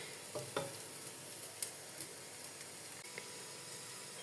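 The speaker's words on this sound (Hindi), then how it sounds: "कीमे में मैंने देसी घी डाला है और मैं इसको भून रही हूँ" Minced meat (qeema) fries in desi ghee with a continuous close sizzle, broken by occasional scraping knocks of a spoon stirring through the pan.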